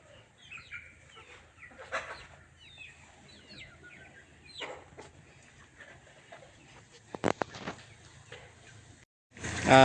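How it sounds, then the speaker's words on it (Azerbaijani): Chickens and chicks cluck and peep nearby in a yard, with scattered chirps over a low background hum, a few sharp knocks, and a louder rustle at the end. "toyuq cüzələr."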